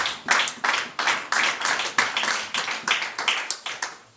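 A church congregation claps together in a steady, fairly quick rhythm at a service, the sharp hand claps close and distinct, with no other sound over them.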